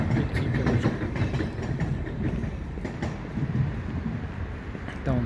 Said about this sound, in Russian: Там поезд, кстати, едет, электричка.